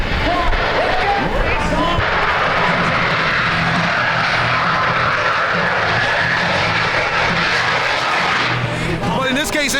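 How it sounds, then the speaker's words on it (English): A loud, continuous jet engine roar fills the whole stretch, swelling and holding steady as a military jet passes close by at an air show in New Orleans. "You ever seen a jet engine? If you never have, this is one here."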